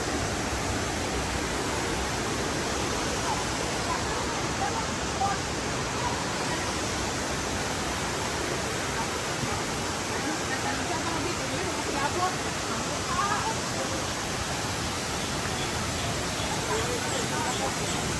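Rushing water from Pinduan Waterfalls in Don Victoriano, Misamis Occidental, a steady, dense roar that fills the whole stretch without letup, loud and close, with no voices above it.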